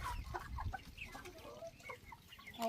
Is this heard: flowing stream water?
no